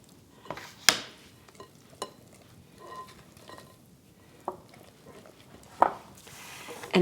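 Spoon stirring chopped ingredients into a cornbread crust batter in a bowl, quiet scraping and scattered light clinks of utensil against the dish, with a few sharper taps spaced through the clip.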